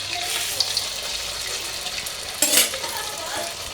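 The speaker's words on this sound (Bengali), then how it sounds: "এই যে আমি এখন পিঠাগুলো ভেজে নিচ্ছি" Pitha cakes frying in hot oil, a steady broadband sizzle running throughout with a brief louder burst partway through, heard close with no talking.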